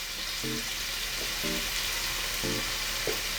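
Minced vegetables sizzle steadily in a hot pan while being stir-fried for a diet pizza sauce, a constant hiss with a few light tonal clinks over it.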